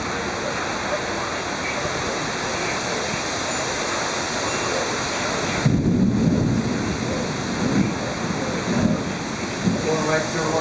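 A severe thunderstorm pours steady heavy rain throughout, with deep rumbling thunder rolls swelling in the second half and a faint voice buried beneath the downpour.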